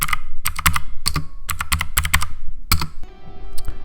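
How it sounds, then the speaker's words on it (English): Rapid bursts of keystrokes on a Tecknet Arctrix 105-key mechanical keyboard, including Enter and arrow keys, clack loudly and close in quick clustered runs with short pauses, and a faint electronic hum enters near the end. "Every mechanical keyboard kind of has its own unique sound."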